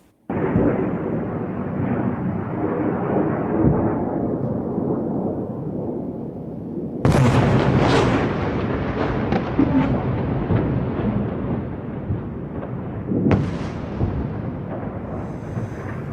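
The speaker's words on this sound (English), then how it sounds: "Israel says there have been missile attacks against Jerusalem and Haifa overnight and also in Tel Aviv." Missile attack explosions at night in Israel, a loud continuous rumbling roar broken by two sharp heavy blasts partway through, each followed by a long rolling boom, with no talking.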